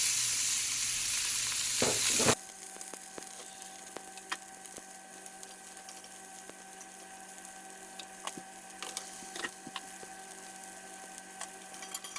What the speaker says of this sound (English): Got a skillet on high heat, a little bit of oil. We're going to go ahead and just drop the steak in here.